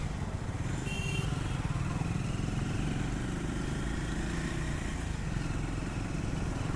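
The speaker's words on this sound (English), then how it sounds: "That Triumph whistle on this engine, it's too good." Triumph Scram 400 motorcycle engine running on a test ride in traffic, a steady dense rumble with a faint whine throughout, close and continuous under wind noise.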